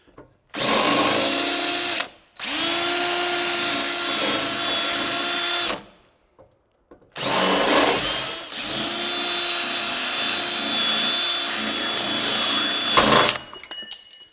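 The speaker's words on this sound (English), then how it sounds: "I'm going to just drill out these rivets" A power drill with a step bit whines in three long bursts separated by short pauses, loud and close, with a steady high-pitched grinding tone as it drills out aluminum door rivets.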